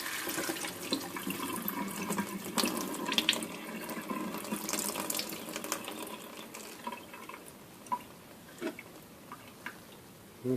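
Water being drained from a jar of soaking seeds while making rejuvelac, an uneven trickling and splashing pour that thins into scattered drips and small sloshes, close and fairly quiet.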